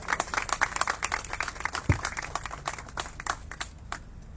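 Applause from a seated audience at a networking dinner in Gulberg Greens, a brief burst of many hands clapping at moderate distance that thins out and fades over a few seconds.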